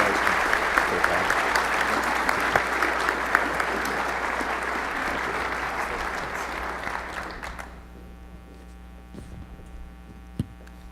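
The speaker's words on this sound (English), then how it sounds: "let's give them all a round of applause" Keynote audience applauding award winners: sustained, dense clapping for several seconds that fades out, leaving a quiet room with mains hum and a few scattered claps.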